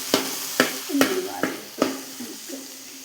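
Onions and small tomatoes sautéing in a pan for Kerala-style beef curry: about five brisk, evenly spaced stirring scrapes over a soft frying sizzle, close and fairly loud, with no talk.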